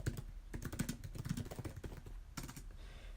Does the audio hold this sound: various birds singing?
no